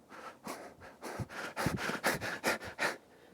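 A voice imitates a person's heavy, rhythmic breathing during a takeoff, a run of loud panting breaths growing stronger and quicker, close and with no words.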